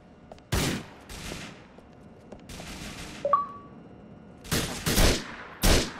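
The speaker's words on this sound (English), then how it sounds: "The bullet went through him." Gunfire from the video game Grand Theft Auto 4 comes in several sharp bursts of shots separated by quiet gaps, loud and close, with one brief tonal ping in between.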